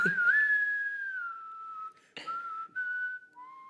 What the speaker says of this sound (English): Because he can whistle.